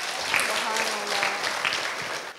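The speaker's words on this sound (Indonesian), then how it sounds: "Tepuk tangan dulu." An audience at an Islamic gathering breaks into steady, moderately loud applause. The clapping runs unbroken for the whole short stretch, with faint voices underneath.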